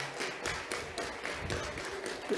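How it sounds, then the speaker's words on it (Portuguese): An audience in a municipal council chamber applauds at a formal session, a soft, steady wash of many hands clapping at some distance, lasting a couple of seconds without talk. "Uma salva de palmas."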